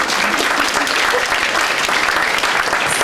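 Audience applause at a comedy storytelling show, dense steady clapping filling the whole stretch, loud and close, with no voices rising above it.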